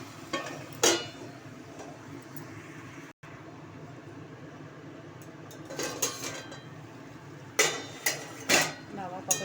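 A lid clatters down onto a cooking pot of ridge gourd and potato curry, giving a few sharp metallic clinks and knocks near the start and again toward the end, with quiet kitchen noise between.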